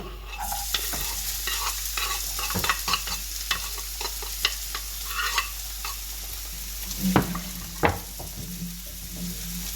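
Onion frying in olive oil in a pot, a steady close sizzle with scattered crackles and occasional stirring clicks and scrapes, no voices.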